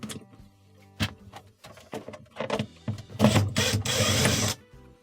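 Screws being removed from the back panel of a refrigerator during a repair, heard as a series of short clicks and knocks, then louder rattling and scraping near the end, close up and without speech.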